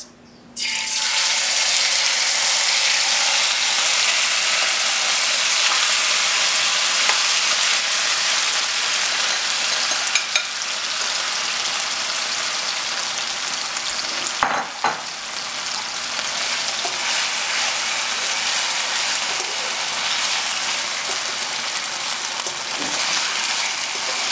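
Meat sizzles and fries in a hot kadai, a loud dense hiss that holds steady close up for the whole stretch, broken by occasional stirring scrapes.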